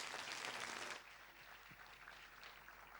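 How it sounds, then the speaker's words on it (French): An audience claps at a Faso Academy 2017 launch event, the applause loud for about a second and then fading to a quieter scattered patter of hands. "Merci encore de les acclamer très très fort."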